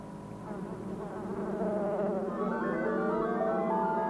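A swarm of killer bees buzzes in a dense, steady drone that swells slightly and stays loud throughout, with no talk over it.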